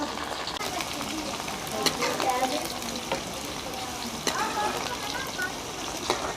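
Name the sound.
okra (bhindi) frying in a pan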